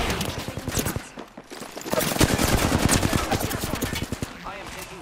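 Rapid automatic gunfire in a Halo-style shooter, dense loud bursts of sharp shots nearly continuous after a short lull, with a voice faintly underneath.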